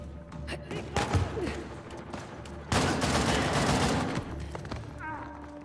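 Gunfire in Uncharted: The Lost Legacy, with rapid bursts and scattered single shots followed by a long dense fusillade, loud and close, with game voices briefly underneath.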